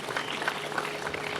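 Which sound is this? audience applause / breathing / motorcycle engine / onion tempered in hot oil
audience applause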